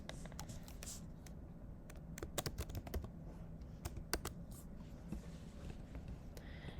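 Close, quick clicking of keys on a computer keyboard as a message is typed, in uneven bursts with brief pauses, heard alone without talk.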